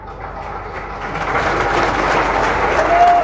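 Seminar audience at a marriage hall in Ayodhya breaks into clapping that starts thin and swells into a fuller, louder wash of many hands, building to its peak near the end.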